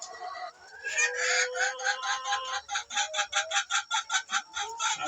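An egg-laying hen clucks and cackles close by, beginning with a drawn-out call and then breaking into a fast, steady run of sharp, rhythmic clucks.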